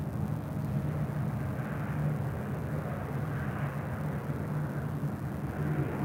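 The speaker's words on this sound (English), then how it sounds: "So we just had Delta Airlines in with the the Delta Spirit sticker. A350 pulling into Terminal 3" Delta Airbus A350 jet taxiing into its terminal at LAX, a steady low rumbling engine drone that holds even and continuous throughout, fairly distant with no voices.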